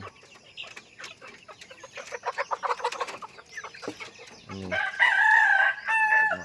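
A rooster crows loudly near the end, after a stretch of scattered clucking and short chicken calls.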